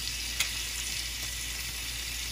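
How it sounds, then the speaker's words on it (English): Broiled meat sizzles and crackles on a hot pan, a close, steady frying hiss with one sharp pop early on and faint small crackles after it. "it is just sizzling and popping and crackling"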